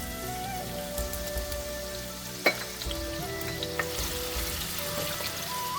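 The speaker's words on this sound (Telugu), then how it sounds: "ఇది ఒక 2 గరిటెల నూనె పెట్టాను. అండ్ ఒక గుప్పెడు ఆనియన్ వేస్తున్నాను." A handful of onions sizzles in two ladles of hot oil for Telangana fish pulusu, a steady close crackle and hiss with a brief clatter of a utensil partway through.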